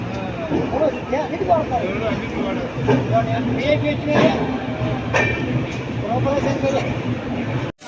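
A passenger train at Bapatla rumbles steadily along with continuous rail noise, while several voices talk over it.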